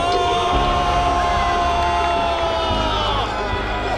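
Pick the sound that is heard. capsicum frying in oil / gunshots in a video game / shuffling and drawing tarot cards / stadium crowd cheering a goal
stadium crowd cheering a goal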